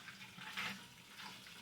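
Liquid drains off in a kitchen, a steady rushing pour of water into a sink, close and continuous for under two seconds.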